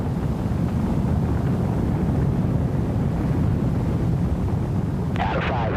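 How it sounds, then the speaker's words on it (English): The Clipper Graham rocket roaring during launch and flight, a loud, continuous low rumble that holds steady throughout, with a brief crackly burst near the end. "All engines up and running."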